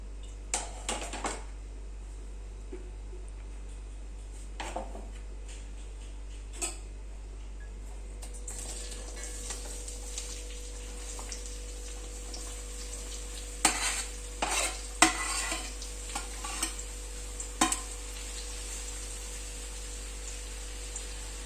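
Onions for a chicken roast sauté in a pan with a soft, faint sizzle, punctuated by sporadic scrapes and clinks of a spoon against the metal as they are stirred at intervals.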